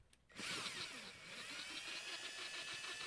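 A cordless 18-volt meat burr grinder whirs up from silence after a click and then runs steadily and loudly, with a high-pitched motor whine and a faint rhythmic flutter throughout.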